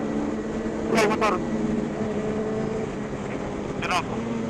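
Motorcycles pass on a fast downhill road, two quick whooshing fly-bys standing out over a steady rumble of engine and wind.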